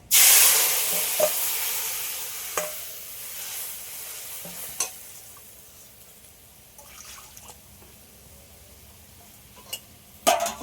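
Mustard paste being stirred into a pan of frying hilsa fish and eggplant, with a steady sizzle and occasional sharp spoon scrapes and knocks against the pan, loudest at the start and end.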